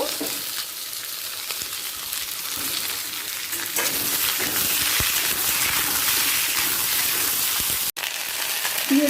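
Mixed vegetables frying together in a pan, a steady, loud, close sizzle that holds through the whole stretch, with a brief cut near the end and no voices.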